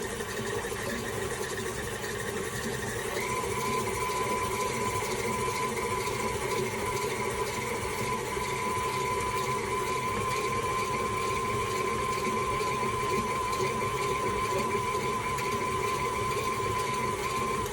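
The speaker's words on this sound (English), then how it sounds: "We're going to start our mixer. We're going to get our butter and our sugar combined first" An electric mixer creams butter and sugar for lemon cookies with a steady, continuous motor whir. The pitch steps up slightly early on, then the hum holds evenly and loudly throughout.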